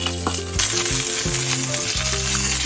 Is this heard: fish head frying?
yes